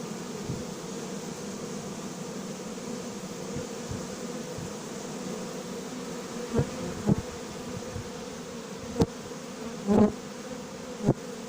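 Honeybees climb from the ground into a hive at a farm, filling the air with a continuous buzzing hum. Several short thumps and knocks sound near the end.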